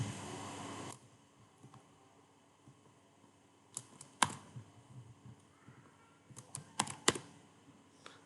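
Soft keystrokes on a computer keyboard come in a few sparse clusters as a short entry is typed. The clicks are faint and close, with a quiet steady hum underneath and no voices.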